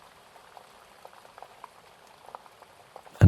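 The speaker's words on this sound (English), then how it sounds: "to the sound of the pitter-patter of the rain" Soft pitter-patter of rain, a faint steady scatter of small drips and taps close by, ending with a sudden louder thump.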